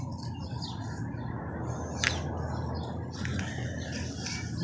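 Small birds chirping near a window, with scattered short tweets rising over a steady low background rumble; the calls are moderately faint, bunched around the middle and the end.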